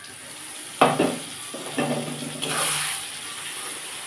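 Spice paste of ground poppy seed, melon seed, tomato and green chili hits hot oil in a pan for a bengali bean dish, giving a sudden sizzle that swells and fades under stirring scrapes, moderately close and with no talk.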